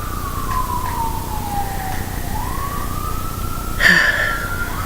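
An emergency siren wails past, its pitch sliding down then back up, with traffic rumble underneath and a brief loud burst near the end.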